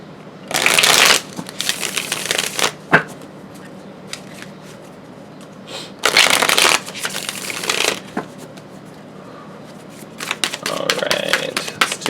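Several bursts of brisk tarot card shuffling, riffling in short sharp runs separated by pauses, with light tapping and handling sounds in between.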